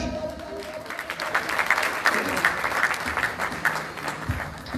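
Audience clapping at a gathering honouring Ustad Ghazanfar Mahar, a steady, full burst of applause that swells after the first second and holds evenly to the end, with faint voices underneath.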